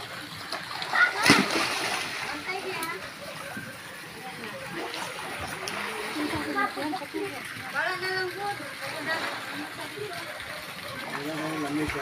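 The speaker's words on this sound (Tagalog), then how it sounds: "Magtampisaw tayo dito sa swimming pool kasi mainit ang panahon ngayon." Water splashes loudly in an outdoor swimming pool on a hot day, with a burst of heavy splashing near the start and continuous sloshing after, while children and adults talk and call out throughout.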